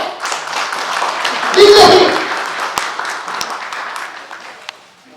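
Audience at a Nepali journalism gathering breaks into applause, a dense burst of clapping that swells and then fades over a few seconds, with voices mixed in.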